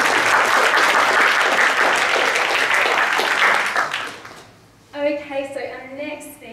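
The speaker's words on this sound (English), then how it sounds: "Can we please actually give Ross a round of applause and welcome?" An audience at an arts panel discussion gives a sustained round of applause that fades out after about four seconds, followed by a person speaking alone.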